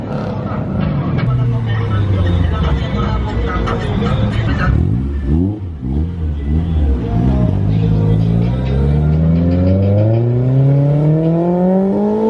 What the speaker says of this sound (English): Another Mustang S650.